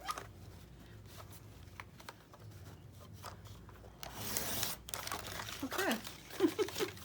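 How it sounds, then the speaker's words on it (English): A blade slicing through paper strips for a junk journal, soft scraping and crinkling strokes close by, quiet at first and growing louder and busier toward the end. "I'm just gonna slice all these and then go back and cut the strings."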